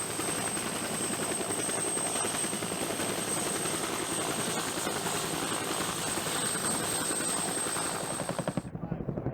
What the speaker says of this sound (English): the AH-1W is able to utilize its entire arsenal to prove why it is the U.S. Marines' go-to support helicopter